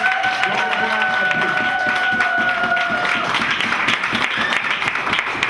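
A wedding congregation at a religious service applauds loudly and continuously, a dense steady wash of clapping with faint tonal sounds early on.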